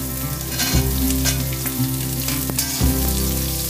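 Sliced onions and whole garlic cloves cooking in a pan for Kashmiri dum aloo: loud, close, continuous frying sizzle with dense crackling and a couple of brief stirring knocks, no one talking.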